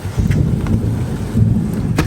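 Steady heavy rain hisses throughout, with low rumbling thunder rolling underneath and a few sharper cracks, no voices.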